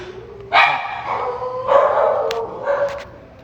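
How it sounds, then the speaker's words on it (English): Dogs barking loudly and close by indoors: a burst of excited barks and yips lasting a few seconds over a low steady hum, with no talking. "My dogs are going crazy."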